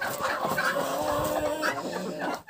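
Broody hens clucking close by in a poultry yard, a steady run of soft, overlapping clucks and murmurs that continues throughout with no one speaking.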